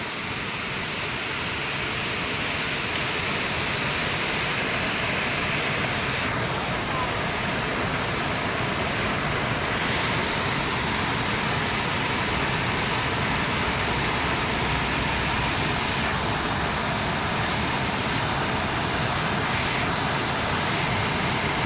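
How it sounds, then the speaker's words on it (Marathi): A village river waterfall roars as a loud, steady broadband rush of falling water throughout, close and continuous with no talk over it. "धबधबा"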